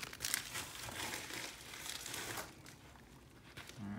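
Topps Series 1 baseball trading cards being pulled from their foil and plastic packaging, with steady close crinkling and rustling through the whole stretch and a few sharper crackles near the start.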